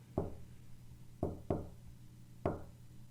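Four sharp knocks on a front door in the visual novel Chaos;Child, sounding in an uneven pattern of one, then a quick pair, then one more, each loud and close with a short decay.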